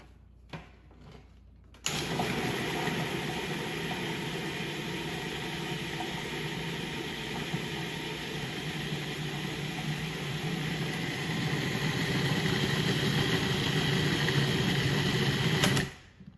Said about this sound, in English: I'm gonna put the processor on for 15 seconds.